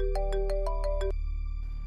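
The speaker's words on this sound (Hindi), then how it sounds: "उस बच्चे के फोन पे किसकी कॉल आ रही है?" A mobile phone ringing with an incoming call: a loud electronic tone repeating in quick, regular pulses close by, then stopping abruptly as the ringing ends.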